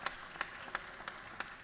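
Scattered applause in the chamber of the Georgia House of Representatives, a few soft, uneven claps at a distance that rise and fade in short bursts rather than a full ovation.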